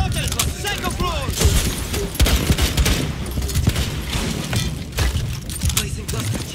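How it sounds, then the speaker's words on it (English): Rainbow Six Siege video game combat with cluster charge explosions and rapid bursts of gunfire, dense overlapping bangs and thuds throughout, with voices speaking amid the noise. "Cluster charge deployed."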